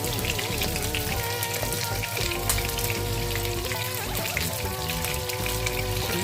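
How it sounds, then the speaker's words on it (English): Continuous loud sizzling and crackling of salmon pieces frying in hot oil in a pan under a mesh splatter screen, dense popping throughout, with a steady tonal hum underneath. "So we're going to fry our salmon pieces until they're nice and golden."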